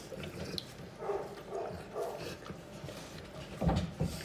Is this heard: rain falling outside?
no